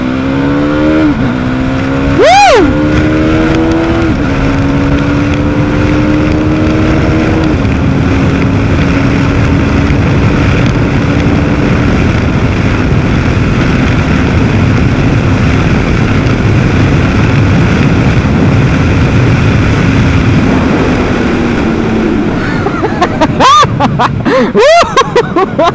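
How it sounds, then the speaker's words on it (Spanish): A KTM Duke 390 motorcycle engine drones loudly and continuously under hard acceleration, its pitch climbing through gear changes over about twenty-five seconds, with brief sharper noises near the start and end. "140 en un tramo súper corto y con una aceleración súper, súper suave"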